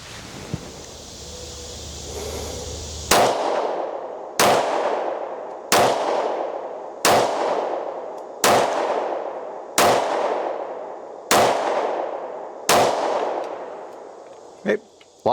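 A 1911 pistol fires about nine evenly spaced, loud, sharp shots outdoors, each ringing with a short decay, during a magazine lock-back test with steady wind noise underneath.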